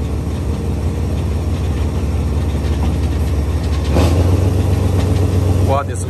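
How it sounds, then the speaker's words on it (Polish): A train engine runs as the train moves off, a steady, loud low drone that swells slightly partway through, with a brief rising whine near the end. "Ten dźwięk tego silnika jest niesamowity"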